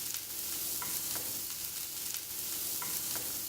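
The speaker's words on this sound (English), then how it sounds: "and then add the chopped onion." Chopped onion frying in hot oil in a pan, a steady dense sizzle filling the whole stretch with faint stirring clicks now and then, close and even.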